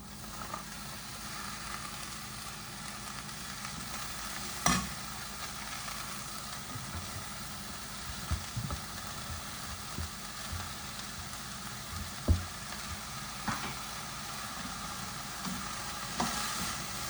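Red amaranth leaves stir-fry with onion and chilli, a quiet continuous sizzle broken by occasional spatula clicks and scrapes against the pan.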